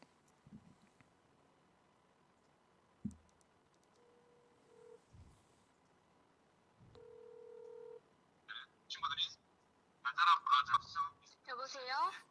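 A telephone placing a call: two long, level ringing tones sound a few seconds apart amid faint clicks, followed by louder bursts of a voice coming through the line.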